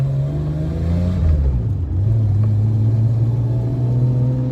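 A Nissan R31 Skyline with an RB30 engine and straight pipe exhaust drones loudly from inside the car, its pitch dipping as the revs fall and then holding steady, with a heavy low rumble and no voices.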